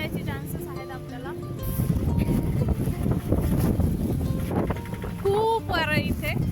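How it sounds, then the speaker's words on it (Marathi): Strong wind blows across a hilltop in Eravikulam National Park, Munnar, with rain, roaring and buffeting the microphone continuously while people talk over it. "खूप वारा आहे इथे, प्रचंड वारा आहे आणि त्यासोबत पाऊस सुद्धा आहे."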